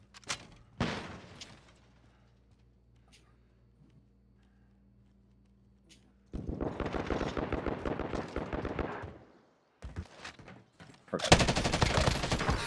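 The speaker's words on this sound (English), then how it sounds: "There's somebody fucking deep shooting at me now" Rapid automatic gunfire from a video game firefight crackles in several loud bursts, with single shots early on, a long sustained burst in the middle and another heavy volley at the end.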